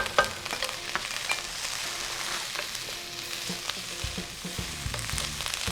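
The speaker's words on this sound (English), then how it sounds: "Add in your minced garlic" Minced garlic, about three cloves, fries on high heat in a pan with chopped scallions and sliced onion for a Chinese tomato egg stir fry. A steady, close hiss of sizzling oil runs throughout, broken by intermittent stirring clatter, with no talking.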